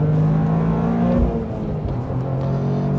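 A 2023 Toyota GR Corolla Morizo Edition accelerates on a race track, its engine a loud, steady droning roar heard from inside the car, pitch shifting slightly as the throttle is worked.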